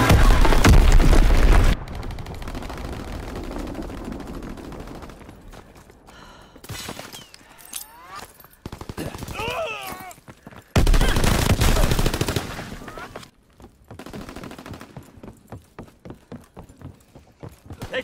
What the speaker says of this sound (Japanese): 敵の爆撃だ。